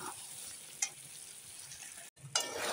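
Chicken curry stirred and fried in a pan, a steady close sizzle with a couple of brief scraping stirs, one short cut to silence partway through, with no talking.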